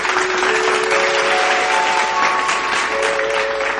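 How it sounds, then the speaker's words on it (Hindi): Loud, sustained applause from a stage-show audience welcoming a singer, continuous clapping throughout with a faint held musical tone underneath. "जोरदार करताली माध्यम स्वागत करवा"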